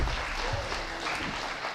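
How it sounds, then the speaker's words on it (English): Applause from an astronomy club meeting audience, a dense, steady patter of many hands clapping in a room for under two seconds. "Oh, now I get applause."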